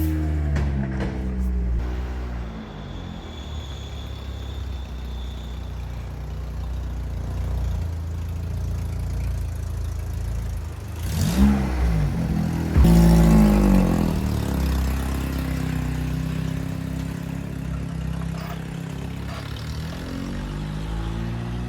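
A Vauxhall Calibra engine, revived after years of neglect, pulls away in first gear: a steady low rumble from inside the car that rises as it moves off, with a few knocks and thumps.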